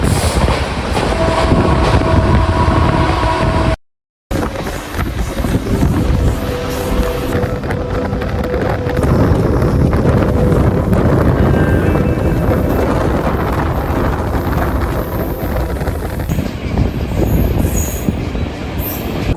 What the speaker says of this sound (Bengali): এই মুহূর্তে কিন্তু আমাদের ট্রেন ছেড়ে দিল সাঁতরাগাছি রেলওয়ে স্টেশন থেকে